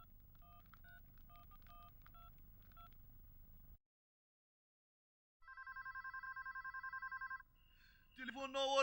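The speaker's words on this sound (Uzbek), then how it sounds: "Telefon jiringlayapti." A telephone rings in a home in an Uzbek film scene, with repeated electronic ring bursts, a pause of silence, then a longer sustained ringing tone followed by a voice.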